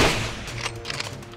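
Rifle shot fired at a charging Cape buffalo in thick cover, one loud close blast that rolls off into a long decaying rumble, with no talking.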